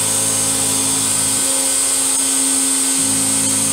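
An X-Carve CNC router with a 3/4 inch straight bit flattens HDPE, a constant loud high whine from the spindle with a lower cutting rumble that drops away midway and then returns.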